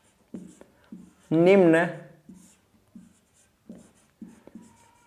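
A question being written on a classroom board during a live maths lesson, with short scratchy strokes coming in separate bursts while a teacher talks in between.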